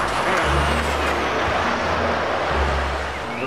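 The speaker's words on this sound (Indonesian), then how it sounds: "Truk towing, teman-teman." A tow truck drives by with a heavy, loud engine rumble and broadband road roar, plus hissing air-brake-like bursts, close and continuous.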